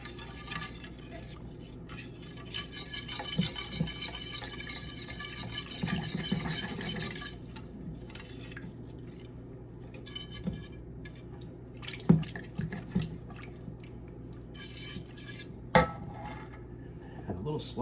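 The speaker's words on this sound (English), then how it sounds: "Now we're going to take our whisk. Just going to whisk it all together." A whisk stirring heavy cream in a pot, with steady scraping and sloshing for several seconds, then quieter liquid stirring broken by a few sharp metallic taps against the pot's rim.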